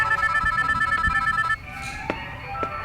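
A phone rings in a shop with a repeating electronic trill for about a second and a half, then cuts off, leaving a quieter room with a few faint knocks and clicks.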